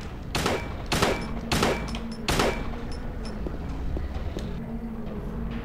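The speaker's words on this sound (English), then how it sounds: "I'm gonna shoot some." Four loud, spaced gunshots ring out in the video game Silent Hill 2, each a sharp crack with a short tail, followed by quieter ambient rumble and a few faint clicks.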